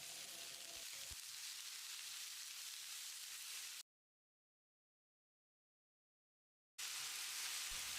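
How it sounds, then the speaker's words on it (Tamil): Chopped tomatoes with salt sauté in a pan for a tomato chutney, giving a soft, steady sizzling hiss with a few faint stirring knocks. The sound is interrupted by a few seconds of silence. "1 டீஸ்பூன் உப்பு சேர்த்து தக்காளியை 1 நிமிஷம் வதக்கிடலாம்."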